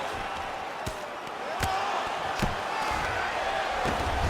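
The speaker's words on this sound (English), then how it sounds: "huge pop from the crowd as the fighters get back up to their feet" The arena crowd at a simulated UFC bout in a fight video game keeps up a continuous roar, punctuated by a few sharp impact thuds.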